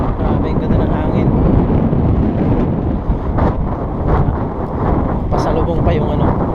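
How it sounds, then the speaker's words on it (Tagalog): Strong cold winter wind gusting over a microphone outdoors in Kuwait, a steady loud roar and rumble lasting throughout with no clear pauses. "Grabe yung ganda ng hangin."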